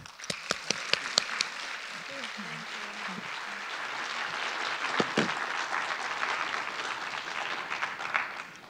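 Applause from an audience closing a museum panel on the Dunhuang cave temples, opening with a few sharp distinct claps over a brief spoken phrase, then swelling into sustained, fairly distant room-filling clapping.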